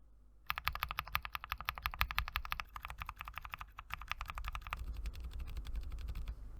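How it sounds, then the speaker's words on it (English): Close-up typing on mechanical keyboards, comparing Gamakay Pegasus silent tactile switches with Akko Lavender Purple and Jwick T1 switches: rapid, steady keystroke clicks and thocks, sharper and louder at first, then a softer, muffled patter. "here is a quick comparison versus Acco Lavender Purples and Jwick T1 switches"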